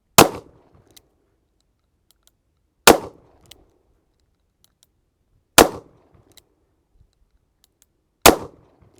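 Four sharp, loud .357 Magnum shots from a Smith & Wesson 686+ revolver fired double action on an outdoor range, evenly spaced about three seconds apart, each a hard crack with a brief fading ring.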